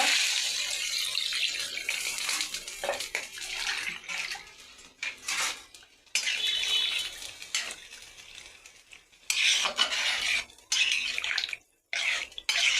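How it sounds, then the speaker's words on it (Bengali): Water pours and splashes into a cooking pot holding oil in bursts, with brief pauses and clinks of metal between pours. "আমি এখন পানি দিয়ে দেব"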